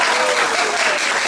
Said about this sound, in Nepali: ताली डिएक्सनको लागि